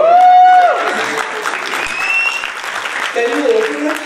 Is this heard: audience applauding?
yes